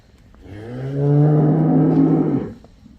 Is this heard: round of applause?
no